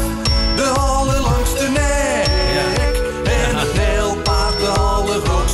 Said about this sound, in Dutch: die kinderliedjes die klinken zo